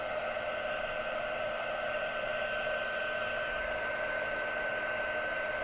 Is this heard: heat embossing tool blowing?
yes